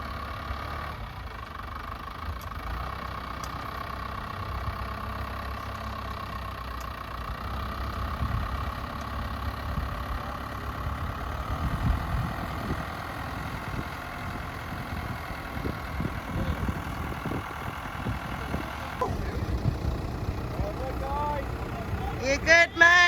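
A 4WD engine idles steadily at low, rumbling volume during the recovery of a bogged offroad caravan, with a faint voice and rustling handling noises over it near the end.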